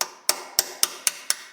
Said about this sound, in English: I got a flat chisel and my small little hammer. I'm just going to try and tap that.